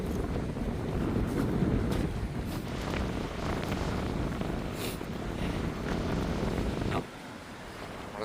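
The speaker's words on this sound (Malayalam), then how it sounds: "നല്ല സ്ട്രോങ് കാറ്റ്, നല്ല തിരയുണ്ട്." Strong wind and crashing waves on a rocky seashore in heavy rain and rough seas, a loud, continuous roar with wind buffeting the microphone, easing slightly near the end.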